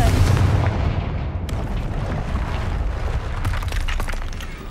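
A Confringo spell blasts in a Hogwarts video game, a sharp explosive burst at the start followed by further booming impacts and rumbling debris, loud and close.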